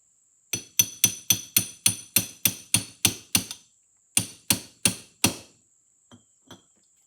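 A hammer strikes a brass punch on an Amberola phonograph spring barrel in rapid, even metallic taps, about eleven in a row, a short pause, then four more and two faint final ticks, close and crisp.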